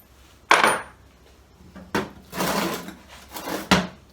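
Metal brake bolts from a 1936 Chevy coupe are handled and set down, giving several sharp clinks and rattles spaced across a few seconds, close and fairly loud in a quiet space.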